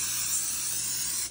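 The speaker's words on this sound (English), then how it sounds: "I'm gonna spray this super quick with some Pam" Pam cooking spray hisses onto a silicone muffin tin in one steady, close burst lasting just over a second before cutting off.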